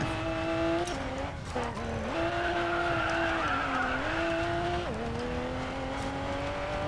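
Continuous engine drone of a Toyota GR Supra in the game Racing Master, pitch dipping and rising with gear shifts, steady and fairly loud throughout.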